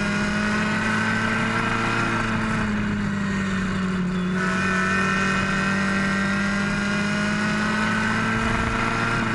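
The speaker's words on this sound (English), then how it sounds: "And now PJ's trying to catch them. But they're all real fast" Race cars speed around a track at a New England racing event, their engines a steady, droning roar that holds for several seconds with a slight swell and no voices.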